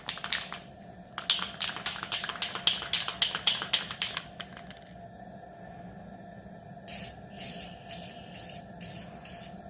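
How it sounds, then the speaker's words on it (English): Short bursts of spray paint hiss onto a fishing bait: a long run of rapid, sputtering sprays in the first seconds, a pause, then several clean, evenly spaced hisses near the end, close and fairly loud. "I don't want you to spray paint your camera."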